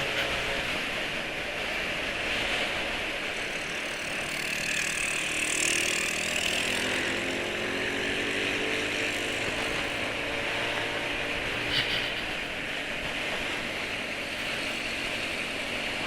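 A Yamaha NMAX scooter engine idles steadily with a slightly rough, uneven rumble, unstable at low speed, close and continuous throughout, with no voices.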